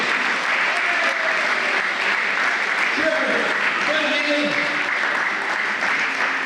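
A gym crowd at a high school volleyball match applauds steadily as players are introduced, while an announcer speaks over the clapping through a PA.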